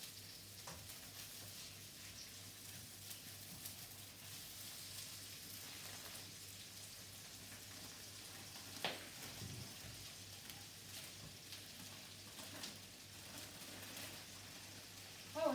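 Cabbage stir-fried in a smoking-hot pan, a faint, steady sizzle and crackle with occasional soft scrapes of stirring, quiet and continuous throughout.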